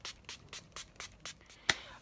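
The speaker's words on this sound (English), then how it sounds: "I'm going to spray my face with this before we begin" A rapid series of about seven short, soft bursts of setting spray onto a face close by, followed by a sharper click or tap.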